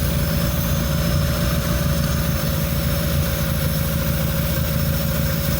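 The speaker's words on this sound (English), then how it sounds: "Cylinder 3 is misfiring. I can hear it jump into the tool." A car engine idles steadily with cylinder 3 misfiring and its spark jumping into a spark tester tool; a continuous, close, loud rumble holds for the whole stretch with no voices.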